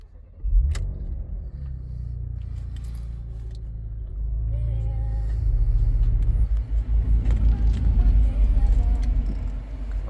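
A 2018 Porsche Macan GTS starts up from inside the cabin: a click and brief crank, then the engine catches into a loud, deep rumbling idle that swells and holds steady.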